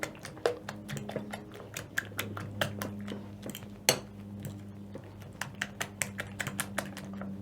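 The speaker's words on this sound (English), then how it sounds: "using a fork, I'm going to mix everything until combined" A fork beats eggs in a bowl with rapid, irregular clicks and taps of metal on the bowl, close and fairly quiet, over a faint steady hum.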